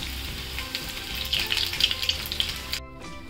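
Chicken lollipops deep frying in hot oil on medium heat, a dense close crackling sizzle with bright bubbling pops that cuts off abruptly near the end.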